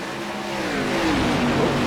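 AREA Pro Series race cars accelerate at a restart at Darlington, a blended roar of engines rising steadily in pitch and loudness across a short burst, heard from a distance with no talk.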